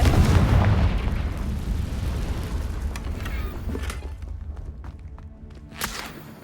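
A Confringo fire spell detonates in Hogwarts Legacy, opening with a loud booming burst that rolls off into a long rumbling tail, with a few faint crackles and a small thump near the end.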